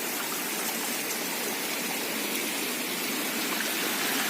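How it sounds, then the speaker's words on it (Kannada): Steady rushing water of a rain-fed stream beside a plantation, a continuous broadband wash with no pauses, fairly close and even throughout. "ಇದು ನಮ್ಮ ಮನೆ ಹಿಂಬದಿಯಿಂದಾಗಿ ಬರುವ ನೀರು."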